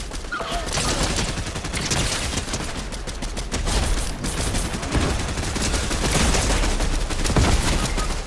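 Continuous gunfire rattles through a Fortnite match, with rapid overlapping shots and bursts packed tightly together at steady, fairly loud volume for the whole stretch. No voices are heard.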